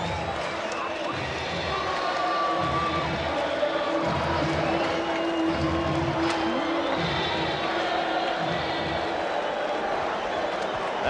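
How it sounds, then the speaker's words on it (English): A large stadium crowd at Game 7 of the 1986 World Series, Red Sox at Mets, roars and chants in a rhythmic, pulsing pattern, a dense wall of voices heard from within the stands. "Listen to this crowd and that chant."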